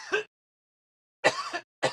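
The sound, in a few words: cough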